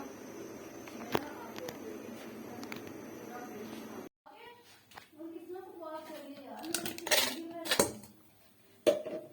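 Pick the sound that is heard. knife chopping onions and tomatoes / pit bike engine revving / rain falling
knife chopping onions and tomatoes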